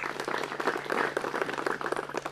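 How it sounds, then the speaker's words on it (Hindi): A crowd of farmers at a Kisan Prashan Manch event on stubble management in Amritsar applauds with brisk, continuous clapping that stays at a steady level. "अपना भी जोरदार तालियों से स्वागत कीजिए"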